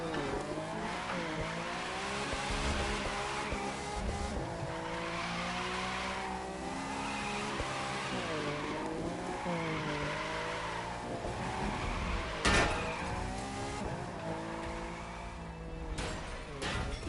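A powerful Lamborghini drifts in The Crew 2, its engine revving and wailing up and down in repeated sweeps while tires squeal and skid almost continuously, with a sharp louder burst near the end.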